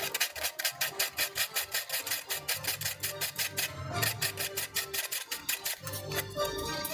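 Sandpaper, worn and coming apart, rubs back and forth on a model kit part, making a fast, rhythmic rasping scrape that repeats in close, even strokes throughout.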